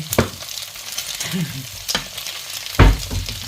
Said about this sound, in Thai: ใส่ไข่ลงไปหนึ่งฟองแล้วก็คนคนคน